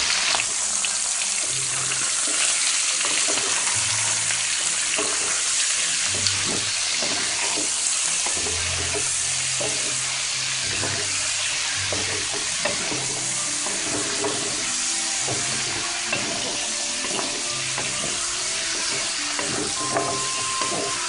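Pork belly frying fat side down in its own rendered fat for Chinese red braised pork, a steady close sizzle with stirring scrapes running throughout, no talk.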